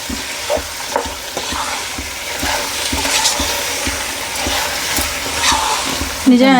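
Masala, oil and rice for bagara rice are stirred in a pan, with rhythmic spatula scrapes and clanks over a constant frying sizzle, close and loud.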